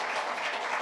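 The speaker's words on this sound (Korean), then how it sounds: "여러분 우리 찬양팀에게 박수로 한번 축복해 주시겠어요?" Congregation applause for the worship team at a church youth Sunday service, a brief, steady burst of clapping with no voices.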